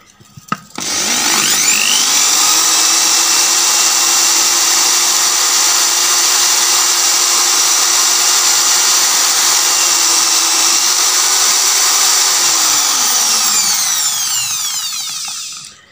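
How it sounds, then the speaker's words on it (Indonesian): A steady, loud power-tool whir of sanding rust off a motorcycle valve, spinning up at the start and running evenly for about twelve seconds before winding down. "makanya harus di amplas lagi teman-teman"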